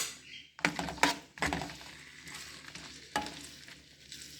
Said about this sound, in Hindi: 2 सब्ज़ मिर्चें मैंने अब डाली है और 6-7 में गोल मिर्चें रेड बटन चिली जो है ये ऐड करके इसको मैं फ्राई कर लूँगी।